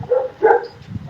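Dogs at a farm animal sanctuary bark in the background, two or three short yaps at moderate distance, fairly quiet and scattered across about a second.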